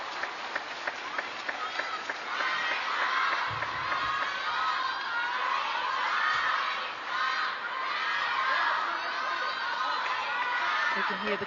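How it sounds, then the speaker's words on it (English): Spectators at the ITTF World Table Tennis Championships Finals in Doha cheer and chant for a player during a women's match, a dense continuous roar of many voices with shouts rising and falling throughout, loud and sustained. "You can hear the crowd cheering the name of Sun Ying-sha."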